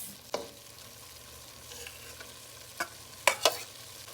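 Onion and thyme frying in a pot for a farm chicken stew, stirred with a utensil: a low steady sizzle runs throughout, broken by a few sharp scrape-and-knock accents near the end.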